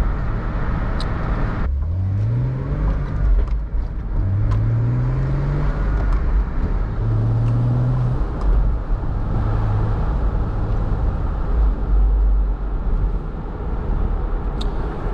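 A 2000 Porsche Boxster S convertible engine pulls hard under acceleration, its note rising through several gear changes over constant road and wind noise from inside the car.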